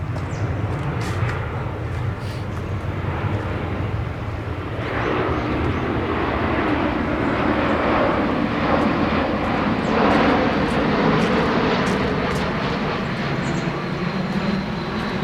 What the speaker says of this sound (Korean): 아 비행기 길이랑 그래서 좀 시끄럽긴 한데